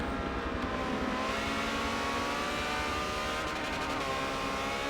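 Ferrari 360 Challenge Stradale race cars scream along the Monza straight toward the first chicane, a dense sustained roar of high-revving engines with harmonic whine, loud and continuous throughout.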